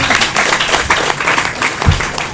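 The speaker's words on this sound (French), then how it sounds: "Applaudissez pour vous-même" An audience at a political rally, where women are joining the Bloc républicain, bursts into a dense, steady round of clapping that lasts the whole short stretch without talk.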